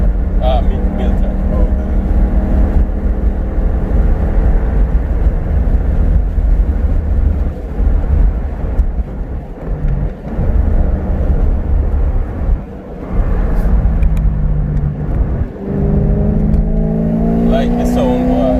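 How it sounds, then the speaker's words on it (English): Tuned BMW E92 M3 running E85 fuel with full bolt-ons, its exhaust droning loud and close as it accelerates, heard from inside the car, with people talking over the engine throughout. "I like when you're driving quiet, and then when you give it juice, man, that's what I love about this exhaust"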